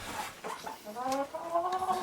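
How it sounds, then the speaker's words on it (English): Chickens clucking and squawking close by, a few short calls in quick succession followed by longer, rising clucks. "There you go, girls. Should be happy chickens."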